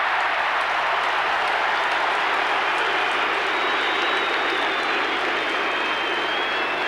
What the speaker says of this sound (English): What is that sound that's coming from the crowd? I think they're just saying BT, BT, BT.